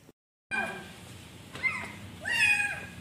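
A small cat meowing at night while trying to get into a house, two or three drawn-out mews after a moment of silence, the last one loudest and longest.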